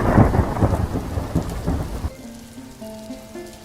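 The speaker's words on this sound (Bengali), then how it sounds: "বৃষ্টি আরো বাড়ছে মনে হয়।" Heavy monsoon rain hammers down in a Bangla animated cartoon, with steady dense patter that suddenly thins out to faint drips and soft tonal sounds.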